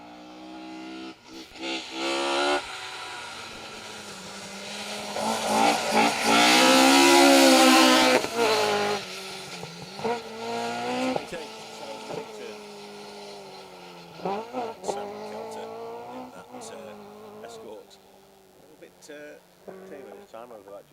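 A Peugeot 205 GTI rally car races through a forest stage, its engine swelling from a distance to a loud, revving pass and fading away with gear changes, while a commentator talks over it throughout.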